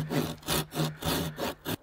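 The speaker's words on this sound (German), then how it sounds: "jetzt säge ich hier noch so ein paar Rifflungen ein" A hand saw cuts grooves into wood at a bushcraft camp shelter build, six close rhythmic rasping strokes with short gaps between them, heard alone.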